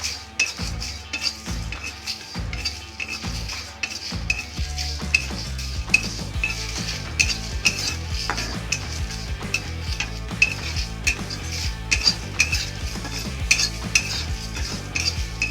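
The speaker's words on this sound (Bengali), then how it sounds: "এবার এটাকে ভালো করে শুকনো খোলায় একটু ভেজে নিয়ে মিক্স করে নিতে" Whole spices, including mace, are dry-roasted in a pan and stirred, producing loud, close, rhythmic scraping and metallic clinks of the utensil against the pan over a faint sizzle.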